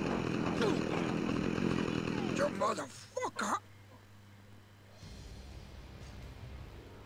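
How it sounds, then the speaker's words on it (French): Chainsaws revving in Scarface: The World is Yours, a gang of attackers wielding them. A loud, dense buzzing roar fills the first couple of seconds, then cuts off into quieter game background with voices. "Oh non, c'est un gang de tronçonneuses."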